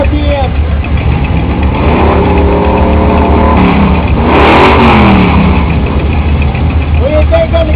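A car's engine revs repeatedly at a show-and-shine car show, loud and close, rising and falling in pitch through several throttle blips, with crowd chatter and voices underneath.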